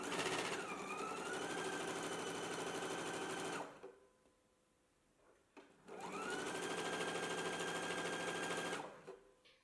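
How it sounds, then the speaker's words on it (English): Domestic sewing machine stitching the long side of a fabric strap with a 3/8 inch seam allowance, running steadily in two long bursts separated by a few seconds of quiet, close and fairly loud. "We're just gonna stitch right down the long side of the pattern like so"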